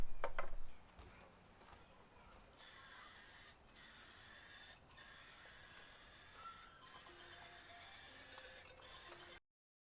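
Undercoating sprayed onto the underside of a vintage Porsche 911 Targa in a shop, a steady loud hiss in several long bursts separated by brief pauses, no talking.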